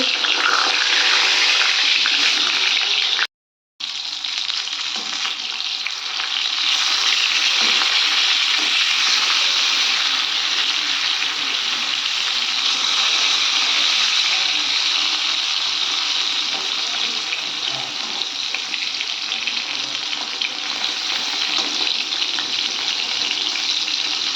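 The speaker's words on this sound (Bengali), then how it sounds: "পটলগুলোকে আমি দই পটল বানাবো, তো তার জন্য পটলগুলোকে ভেজে নেব।" Pieces of pointed gourd (potol) fry in hot oil in a pan, giving a loud, steady, close hiss of sizzling that runs on without pause apart from one brief dropout early on.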